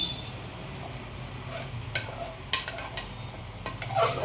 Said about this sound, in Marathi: स्लो गॅसवर 7 ते 8 मिनटं सतत हलवत राहायचे.